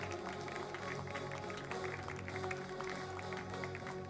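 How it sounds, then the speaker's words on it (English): Audience applause rolls steadily through a baseball field during a senior night ceremony at a high school game, Kahok against Freeburg. Dense, continuous clapping spreads across an open-air crowd, with a faint steady hum underneath. "Let's have another round of applause for Cam Kraus."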